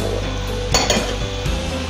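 Carrots, capsicum and cabbage get tossed together in a pan for Hakka noodles, with metal utensil clinks and scrapes over a faint steady sizzle, close up and without speech.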